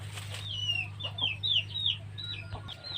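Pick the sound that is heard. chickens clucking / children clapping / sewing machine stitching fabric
chickens clucking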